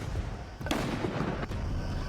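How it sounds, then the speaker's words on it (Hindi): Artillery shells fired in the Ukraine war, heard as a dense, rumbling blast texture with sharp booms near 0.7 and 1.5 seconds over continuous low roar. "एक के बाद एक विध्वंसकारी गोले दागे गए।"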